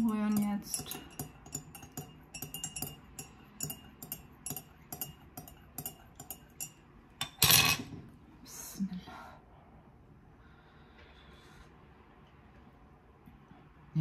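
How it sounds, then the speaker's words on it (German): A spoon stirs a drink in a glass, giving a quick run of light metallic clinks over the first seven seconds, close and moderately loud, then a louder knock and quieter room tone. "Umrühren jetzt."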